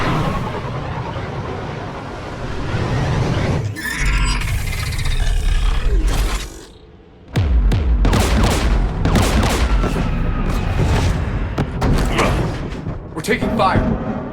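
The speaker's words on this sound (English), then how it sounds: "We're taking fire." Battle gunfire in the video game Mass Effect 3, with sustained bursts and booming blasts mixed with a roaring engine-like rumble, loud and dense, a short lull midway, and voices talking over the action.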